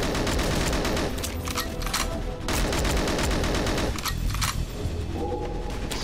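Sustained automatic fire from the KF7 Soviet, an AK-47-style rifle in 007 Goldeneye Source on the Caves map, rattling in dense loud bursts with brief pauses between them and no talking.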